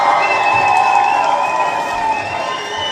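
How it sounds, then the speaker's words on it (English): A loud crowd cheers and applauds continuously, a dense wash of voices and claps with some sustained tonal whoops running throughout. "You all deserve a round of applause."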